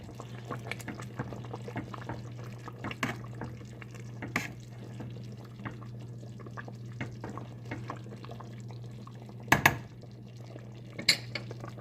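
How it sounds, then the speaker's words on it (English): A spoon gently stirring oxtails and black-eyed peas in a pot, with scattered soft clinks and scrapes and a few sharper knocks against the pot over a low steady hum. "Stir very gently. Make sure they're not sticking to the bottom of the pot."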